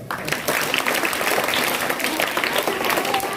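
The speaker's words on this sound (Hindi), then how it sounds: "अपने आप की दुआ से एक बार ताली बजाओ" Steady applause from a crowd at a school student award ceremony, many hands clapping densely and loudly for a few seconds with no talking.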